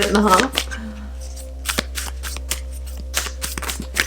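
Rapid riffling of tarot cards near the start, then scattered soft snaps and flicks of cards over a low steady hum.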